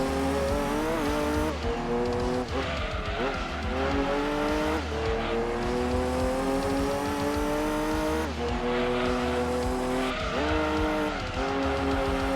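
A revving, buzzy turbocharged car engine in the video game Gran Turismo 2 on PS1 roars steadily, pitch rising and dropping with gear changes, loud and close with no voices.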